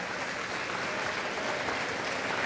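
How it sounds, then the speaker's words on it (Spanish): A church congregation applauds for the Emaús group, a dense, even wash of clapping from many people that holds steady throughout. "Aplauso para el grupo de Emaús."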